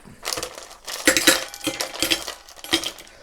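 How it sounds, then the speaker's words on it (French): Ice cubes clatter into a metal cocktail shaker in several bursts of sharp clinks and rattles, close and fairly loud with no talking. "On va remplir notre shaker de glaçons."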